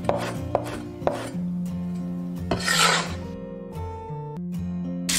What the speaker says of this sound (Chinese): 切一些葱花